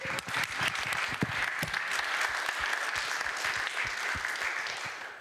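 A demo day audience applauds the teams, with dense, sustained clapping throughout at a moderate distance that fades slightly at the end.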